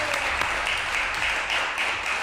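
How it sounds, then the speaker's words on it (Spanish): Studio audience applauding on a television show, a steady patter of many hands clapping, moderately loud and continuous. "Démosle un aplauso a Jorge Pedrero."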